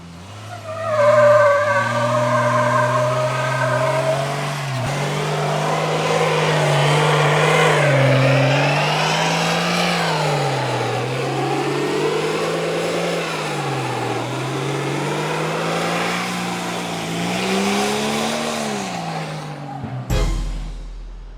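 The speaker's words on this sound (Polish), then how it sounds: "Tak, odpowiednie przyspieszenie ma, gumę to pali." A Tarpan 4.0 car with a 200 hp engine accelerates hard while burning rubber, the engine roaring and wavering in pitch over sustained tire squeal, loud and continuous until an abrupt cut near the end.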